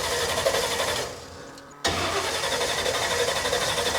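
A carbureted engine cranks and catches, a loud mid-pitched engine running steadily, briefly dropping in level before surging back strong and continuing near, with no talk.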